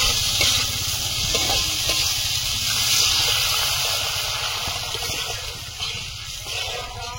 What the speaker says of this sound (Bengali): সব নরম হয়ে গেছে, এবারে জল দিয়ে দেবো।